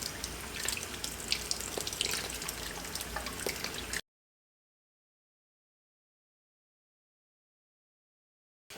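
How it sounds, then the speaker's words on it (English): Cold tap water runs steadily over peaches in a sink for about four seconds, a close, even splashing rush, then the clip falls silent. "You can also run it under cold water to help remove the skin."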